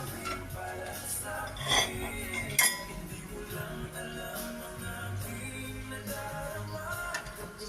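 Cooked lapu-lapu escabeche, still simmering, is moved into a serving dish at home, with scattered clinks of utensils against pots and dishes over a low kitchen background, a couple of sharper knocks standing out.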